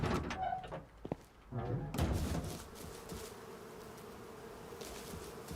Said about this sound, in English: We have many bees.